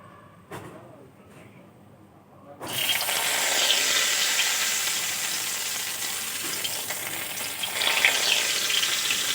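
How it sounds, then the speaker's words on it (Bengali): Stuffed pointed gourd frying in oil, starting with a few soft knocks and quiet before a loud, continuous sizzle bursts in and holds steady close by, with no voices over it. "বাকিগুলো একইভাবে আমি সব ভেজে নেব"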